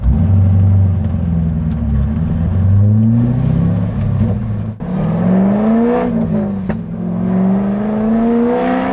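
A C5 Corvette with upgraded big brakes accelerates, its engine note rumbling and climbing through gears in a loud, close interior recording, with a brief dip at a shift before pulling up again.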